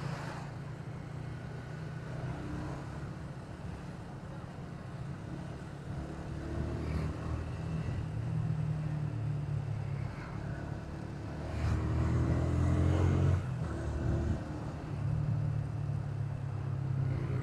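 Heavy holiday homecoming traffic of cars and motorbikes drones on steadily, engines revving and passing close by in a dense, continuous low rumble that swells louder as vehicles push through.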